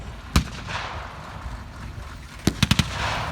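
A German Pak 38 anti-tank gun in a 1944 Normandy village firefight: one sharp report, then a quick cluster of four shots later, over a rumbling battle backdrop at moderate distance.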